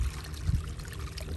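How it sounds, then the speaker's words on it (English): Water pouring out of a broken underground drain line at an excavation site, a short burst of rushing, gurgling flow close by with a low rumbling undertone. "You see the water pouring all out"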